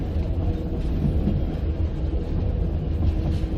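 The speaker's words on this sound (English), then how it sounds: "Here I am on the last leg of the yellow train." The yellow train rumbling through the Pyrenees mountains, heard from on board as a loud, steady low roar of wheels and carriage noise that continues without a break.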